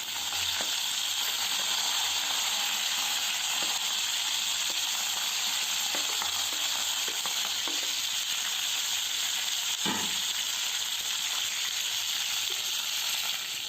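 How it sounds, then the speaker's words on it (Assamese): Roasted pork sizzles steadily in hot oil in a pan, a dense continuous frying hiss with faint stirring clinks and a sharper scrape near the end. "আৰু এতিয়া মই তাতে মোৰ ৰ'ষ্টেড পৰ্কখিনি দি দিছোঁ।"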